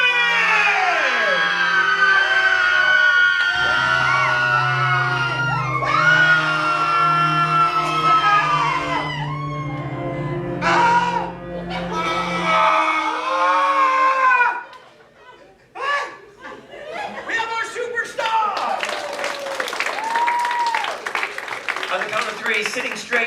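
Audience members at a stage hypnosis show scream together loudly in a long, chaotic burst, a mix of shrill and hoarse voices, which briefly cuts out before another wave of yelling and shrieks follows.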